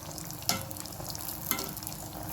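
Nei appa fries in a pan after being flipped, giving a continuous close sizzle punctuated by two sharp clicks about a second apart, with no talking.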